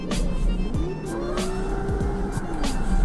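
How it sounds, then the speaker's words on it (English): Racing car engines in the drift racing video game CarX Street whine and rev up and down in pitch as a car drives hard, with brief tire squeals over a steady rumbling background. "I can really hear the max revving, you know, the car."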